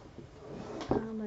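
A desk drawer slides open near the end with a short scraping, rattling burst and a brief resonant ring. It follows quiet room noise and faint handling sounds.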